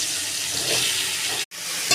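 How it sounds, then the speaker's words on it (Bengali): Cubed yam (ol) frying in hot oil with cumin seeds, a steady broadband sizzle filling the clip, broken once by a brief silent gap near the end. "এইভাবে ভাজতে থাকবো"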